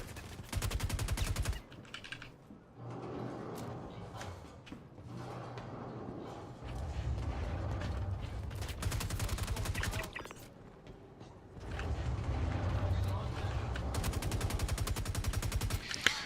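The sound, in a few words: gunfire laying down cover fire in Star Citizen video game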